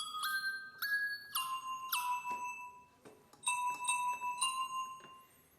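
Synthesized bell tones from the Octane VST synth ring out in a clear sequence of bright, chiming notes, each striking sharply and decaying with shimmering overtones, alone without talk.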